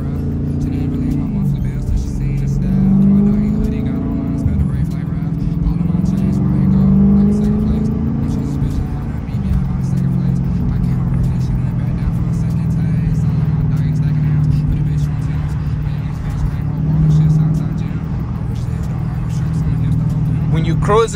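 A Dodge Challenger in street mode drives with a steady, deep engine and exhaust drone that rises in a few revving swells, while people talk inside the car throughout.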